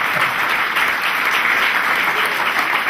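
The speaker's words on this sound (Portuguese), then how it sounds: "Vamos aplaudir o Senhor por isso." Church congregation claps together in a sustained, even burst of applause filling the hall, loud and unbroken from start to finish.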